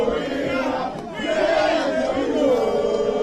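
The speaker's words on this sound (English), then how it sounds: "The crowd is getting really uncontrollable. It's an uncontrollable crowd." A large, loud crowd at an election constituency in Bole, Ghana, shouting and clamouring continuously with a brief dip in the middle before the din swells again.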